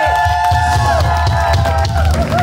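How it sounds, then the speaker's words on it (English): A crowd at a Halloween convention music performance in Minneapolis cheers and whoops through loud, ringing band noise, the applause blending under sustained sound without a clear pause. "Give a round of applause to our buddy fucking Alex sitting in with us."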